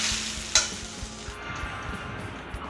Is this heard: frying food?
yes